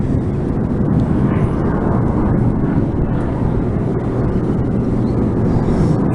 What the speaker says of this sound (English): So we've got a lot of fighter jets going over this morning.